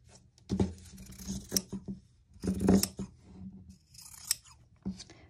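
Scissors trim the fabric of a homemade lunch tote bag, making several separate snipping bursts close by with short pauses between the cuts.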